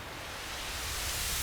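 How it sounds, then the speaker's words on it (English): A hissing wash of white noise synthesized in Sytrus swells gradually louder, smooth and steady with no other sounds. "That white noise."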